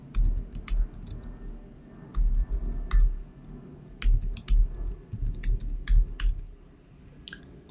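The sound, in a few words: typing username and password on a keyboard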